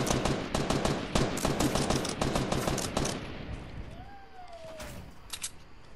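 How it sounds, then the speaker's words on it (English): Rapid gunfire from a Fortnite battle royale match, where a sniper rifle is being no-scoped, rattles loudly in dense bursts for the first few seconds, then thins out to scattered game effects and a gliding whistle-like tone. "so I gotta no-scope him with this sniper"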